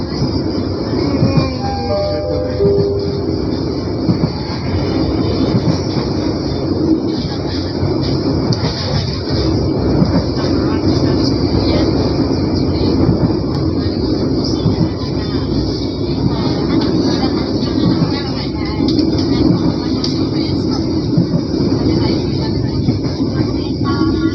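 A Commuter Line train in Indonesia runs steadily for the full stretch with a loud, continuous rumble of wheels on rails, a rhythmic clickety-clack and brief squeals from the wheels.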